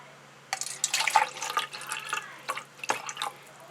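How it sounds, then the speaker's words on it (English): Water poured into a container to measure gas volume in a CO2 chemistry experiment, giving a series of irregular splashing, trickling bursts close by with brief pauses, no talking. "Okay, so I'm going to pour the water up to here."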